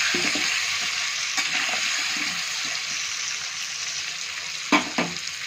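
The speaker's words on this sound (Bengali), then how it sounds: "আলুটা কিন্তু আমি ভালো করে ভেজে নেবো।" Potatoes fry in oil with a steady, close sizzle and occasional clinks of a spatula stirring the pan.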